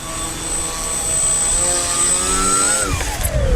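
A small electric motor on an FMS Maule 1500mm RC model floatplane whines steadily with rising and falling pitch, near and loud, with wind buffeting in the background.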